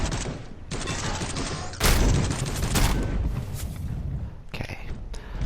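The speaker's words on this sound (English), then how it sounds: "Now take a couple more pot shots at that guy" Heavy gunfire crackles from Space Hulk: Deathwing, dense bursts of loud shots with a big blast just under two seconds in, then trailing impacts and rumble, with quiet talk underneath.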